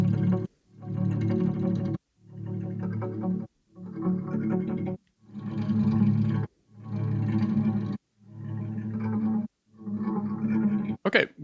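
Plucked guitar notes smeared into ambient clouds by convolution reverb swell in and out about eight times in a steady rhythm, each rising bloom cutting off to a brief silence, with no talking.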